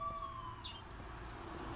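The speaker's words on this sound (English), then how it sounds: "The ambulance just left." An ambulance siren in the horror video game The Coma: Cutting Class wails faintly in the distance, a thin sustained tone that fades away as the vehicle leaves, with no one talking.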